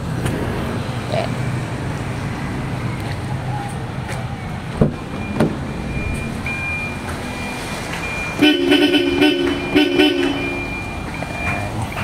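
Bosch Europa horns fitted to an Isuzu D-Max sounding over steady outdoor traffic noise, with a loud burst of several tonal blasts near the end, spaced close together, plus a few brief knocks before.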